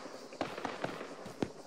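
Explosions go off in the military shooter ArmA 3 during a large co-op battle, several sharp booms at irregular intervals, moderately loud over a steady rumbling background.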